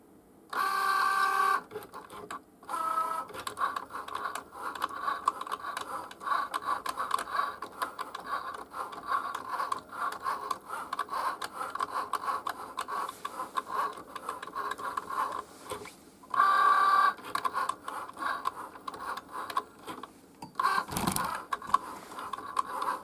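A Cricut Joy cutting machine cuts with a quiet, steady whirring buzz and soft scratchy patter. Its tone shifts with the carriage moves, with a few brief pauses and louder bursts along the way.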